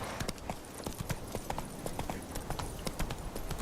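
Roach, a horse in The Witcher 3, gallops in a steady, fast clip-clop of hooves, close and loud throughout, with no talking.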